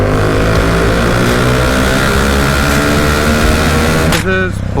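Bajaj Dominar 400 motorcycle with a loud exhaust riding a highway near a tunnel, a continuous deep, throbbing engine roar at close range with heavy wind rumble, easing off near the end.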